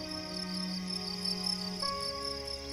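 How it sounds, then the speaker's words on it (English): Male crickets chirp on a summer night in a steady, layered chorus of high trilling tones, close and continuous throughout. "Male crickets produce their tunes by raising their wings to a 45-degree angle"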